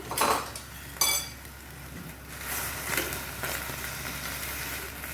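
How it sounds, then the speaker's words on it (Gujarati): Spoon scraping and clinking against a pot as spiced masala is mixed into a sweet brinjal curry, with two sharp metallic knocks early on followed by steady softer scraping and a faint sizzle. "સાથે આપણે જે મસાલો બનાવ્યો છે એ એડ કરી દઈશું, મિક્સ કરી દઈશું એને"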